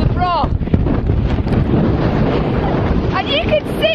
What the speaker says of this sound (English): This is how windy it is outside of the broch.